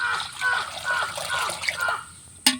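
Water poured into a wok for cooking lentil dal, a steady trickling and splashing stream for about two seconds, followed by a brief clatter at the end.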